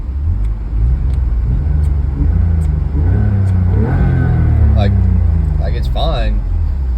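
A BMW E36 engine idles with a steady low rumble right beside the microphone, fairly loud and even throughout while someone talks over it.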